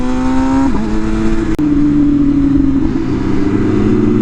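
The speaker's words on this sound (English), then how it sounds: "It doesn't sound bad for a bone stock bike." An MV Agusta Rush motorcycle engine, bone stock, drones loudly and revs with shifting pitch, close by, with a brief click partway through and no talking.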